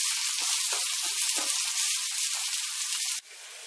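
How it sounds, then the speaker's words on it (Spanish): Chopped onion, salted, fries in oil in a pan with a loud, steady sizzle that holds evenly for about three seconds before abruptly dropping to a softer hiss. "Añadimos la cebolla picada, la salamos un poco y dejaremos que se fría."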